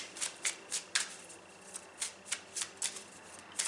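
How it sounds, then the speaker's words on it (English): Tarot cards being shuffled by hand during a card reading, a series of crisp riffling bursts at a steady rhythm, close and fairly quiet, with no talking. "Just trying to shuffle them up for you guys."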